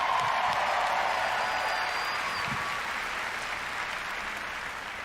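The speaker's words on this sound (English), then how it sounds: "Another round of applause, please, for Marty Hugo and all of our presenters tonight." A large audience at Bethesda's E3 2019 presentation applauds loudly and continuously, a dense wash of clapping with scattered cheers that tapers slightly over a few seconds.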